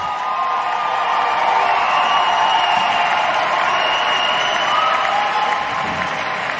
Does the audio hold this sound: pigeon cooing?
no